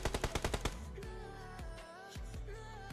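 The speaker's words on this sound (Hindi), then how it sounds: "तभी दूसरा बंदा राइट साइड से फायर करता है।" Rapid automatic gunfire in a mobile battle royale game, a quick burst of close sharp shots followed by scattered single shots and sustained synthetic game tones, with no talking.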